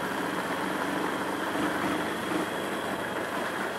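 A Honda Bros 160 motorcycle out on a ride, its engine giving a steady, unbroken drone mixed with broadband road and wind noise and no audible voices.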